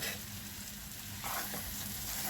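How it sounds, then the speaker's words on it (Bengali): Potatoes are stir-fried with ground spices in hot oil, giving a soft, steady sizzle with a slight swell of frying noise partway through, with no talking. "ভাজা আলুগুলো তুলে দিয়ে ভালো করে কষাতে হবে"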